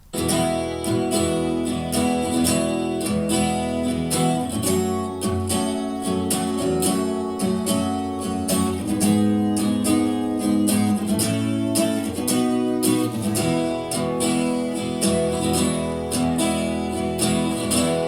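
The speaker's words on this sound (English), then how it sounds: "Then I did 2 takes of acoustic guitars." Two strummed acoustic guitars, panned apart, play together in a steady rhythm, wide and lush with a shimmering chorus and a soft reverb tail, no voices.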